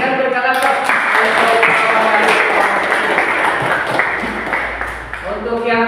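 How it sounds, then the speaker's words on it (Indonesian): Applause from an audience at an Indonesian classroom discussion or seminar, a broad wash of clapping that holds steady for several seconds before thinning out near the end, with faint murmuring underneath. "silakan berikan aplaus"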